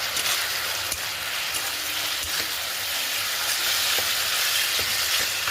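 Green chillies fry in a pan of spiced vegetarian ghugni masala, giving a steady, close sizzle with faint crackles and the occasional scrape of stirring.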